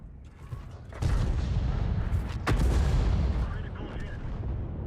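Artillery shell blasts in the World of Tanks video game, a sudden heavy boom followed by a second sharp impact and a rumbling tail, with someone talking over the game sound.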